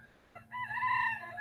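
Turkeys call outdoors in one loud, rising-and-falling harmonic cry lasting about a second, close by, with no talking over it.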